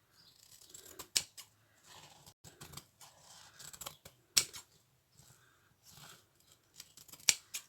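Scissors snip off excess fabric for a junk-style traveler notebook: close, crisp, sharp cuts come one at a time at irregular intervals in a quiet room, with soft handling rustle between them.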